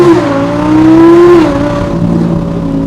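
An Audi pulls hard through a 0 to 60 run, its engine note climbing steadily, briefly dipping at a gear change, then droning on loud and close.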